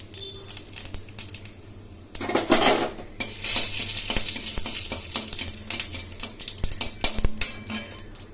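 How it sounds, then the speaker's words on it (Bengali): Dried red chili and cumin fry in oil in a kadai, a steady sizzle building up with repeated metallic scraping and clinks of a spatula against the pan. "এর মধ্যে শুকনো লঙ্কা ও জিরে ভেজে নিলাম"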